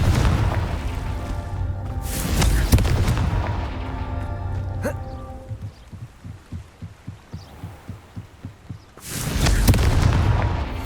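Fire and blasting spells explode in the Hogwarts Legacy video game, with loud booming bursts at the start, a run of quick rhythmic thuds in the middle, and a final heavy blast.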